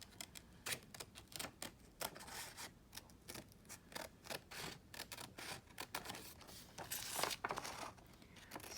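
Scissors snipping through paper to cut out an oval shape, a steady run of close, crisp clicking cuts with rustling in between, alone with no talk.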